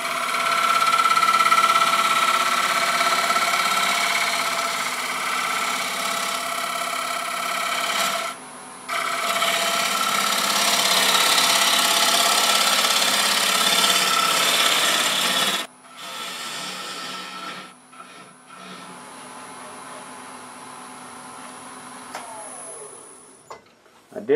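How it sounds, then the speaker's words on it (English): A wood lathe spins a spalted stool leg while a blunt-ground old gouge rubs and cuts in a loud, sustained whirring rasp, broken by a brief pause before the tone thins out and winds down toward the end. "I think for that, I'm gonna use a very blunt grind old gouge, probably about a 75 degree grind."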